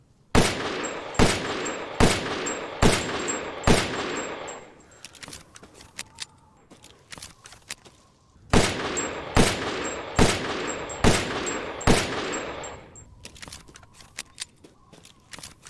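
A fully upgraded S.T.A.K.E. fires in Resident Evil Village: two volleys of loud, evenly spaced gunshots, each shot followed by a ringing tail, with clicks and mechanical handling sounds in the pause between the volleys.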